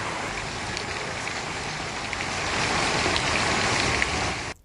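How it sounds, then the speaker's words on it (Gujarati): Heavy monsoon rain pours steadily in Bhiloda taluka, Aravalli, a dense, continuous roar of falling water that swells slightly louder toward the end, with no voices. "અરવલ્લીના ભિલોડા તાલુકામાં ધોધમાર વરસાદ વરસ્યો છે"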